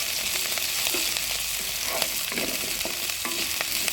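Onions with ginger, garlic and green chillies sauté loudly in a hot pan, a steady close sizzle with occasional stirring scrapes throughout.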